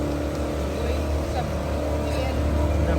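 A motorboat engine drones steadily and loudly during a boat ride on the Nile near a Nubian village in Aswan, a continuous low hum with faint voices in the background.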